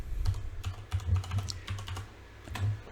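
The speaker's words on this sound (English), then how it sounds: "I'm going to type in my password." A password tapped out on a computer keyboard, a quick run of light, close key clicks at an uneven rhythm, quiet with no talking.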